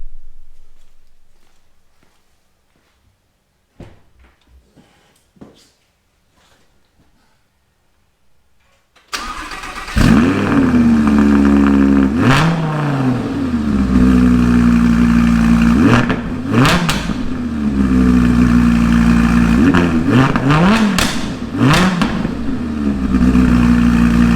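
After near silence with faint shuffling, an Audi R8 Plus engine with a newly installed exhaust fires up loudly and is revved hard again and again, each deep roar rising and falling in repeated bursts.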